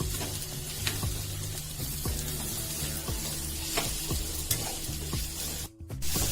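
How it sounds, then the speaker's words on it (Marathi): Bharang wild vegetable with fresh grated coconut sizzles steadily in a pan while being stirred, a constant close frying hiss with light scraping taps of a spoon, no talking. "यामध्ये ओलं खोबरं टाका आणि मिक्स करून घेऊया."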